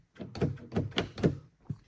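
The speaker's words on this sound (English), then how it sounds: "So that door was locked for some reason" Someone tries the handle of a locked BMW E36 door, producing four or five dull thunks and rattles in quick succession, close to the microphone and moderately quiet.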